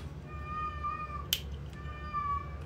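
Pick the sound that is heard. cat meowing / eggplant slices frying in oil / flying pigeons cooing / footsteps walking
cat meowing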